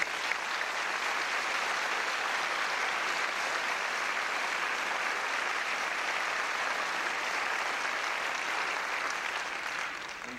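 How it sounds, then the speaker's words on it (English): An audience at a high school academic awards ceremony applauds its speakers, sustained even clapping that holds steady for about ten seconds before starting to taper off. "We have another round of applause for our speakers, please."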